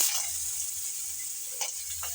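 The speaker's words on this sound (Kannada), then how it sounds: "ಕಡಾಯಿಗೆ ಒಂದು ಟೀ ಅಷ್ಟು ಎಣ್ಣೆನ ಹಾಕ್ಕೊಳ್ಳೋಣ ಇಲ್ಲಿ ಈರುಳ್ಳಿನ ಹಾಕೋತಾ ಇದ್ದೀನಿ" Onions hitting hot oil in a kadai, giving a steady, close hiss of frying with a couple of faint clatters near the end.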